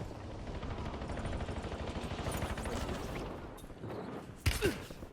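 Rapid automatic gunfire from a Warzone match rattles in dense, continuous bursts, ending with a sharper, louder volley near the close.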